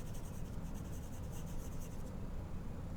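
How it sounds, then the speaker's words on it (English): Pencil or charcoal scratching steadily across the rough back side of drawing paper as a name is written, a continuous close scraping texture with no talking. "So flip it over and write your name on the back"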